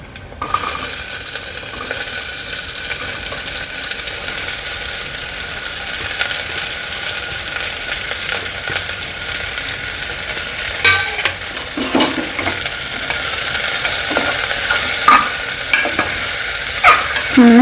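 Onions sautéing in a pan for white kuruma, a loud, steady sizzle and crackle of frying, broken later by a few scrapes and clinks of a spoon stirring against the pan.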